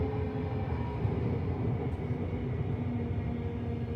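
Train on the Brisbane Redcliffe Peninsula line running toward Petrie Station, heard from inside as a steady low rumble and hum of the carriage with faint track clatter, no speech.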